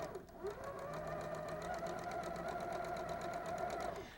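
A sewing machine runs steadily, stitching a long quilt seam with red thread from end to end, its fast even hum continuing for about four seconds at moderate level with no talking.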